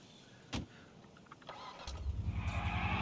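A car engine starts in the video game GTA IV: a short click and clunk, then the starter cranks and the motor catches into a low, steady idle rumble that grows louder.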